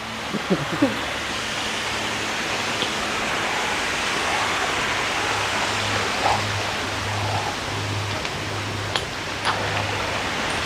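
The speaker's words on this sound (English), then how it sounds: "Here's a mini waterfalls, Kevin. There's a micro one." A small trickling waterfall near Kaieteur Falls in Guyana gives a steady broadband rush of falling water that fills the whole scene at an even level, with a low hum and a few faint clicks underneath.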